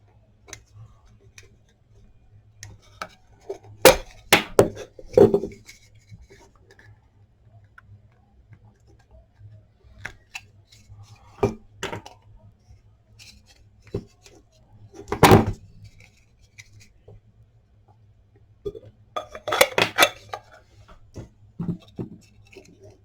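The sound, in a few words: cutting a part off an LED star projector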